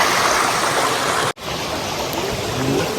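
Clear mountain stream water at Sabarimala in Kerala rushes and splashes steadily, loud and close, with a brief cut partway through and no talking.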